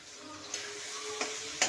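Taro stolons (lati) frying with turmeric and crushed garlic in a pan at home, a soft hiss underneath with three brief spatula clicks against the pan.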